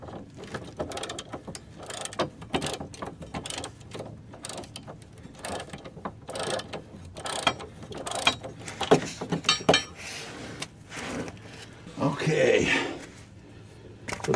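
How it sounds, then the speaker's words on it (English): A heavy ratchet tightening trailer hitch bolts on a Chevy Astro/GMC Safari van, rapid clicking pawl bursts in irregular runs, close and fairly loud, with some speech and clanking between strokes. "Got my beast of a ratchet here"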